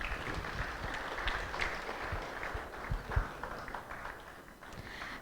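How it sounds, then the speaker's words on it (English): A festival audience applauds together, a dense, even wash of clapping that holds steady throughout at moderate volume. "So please give yourselves a round of applause."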